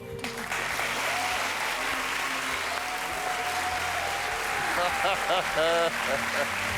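A television talent show audience in France applauds loudly and continuously for several seconds, while a host's voice and a few whoops rise over the clapping near the end.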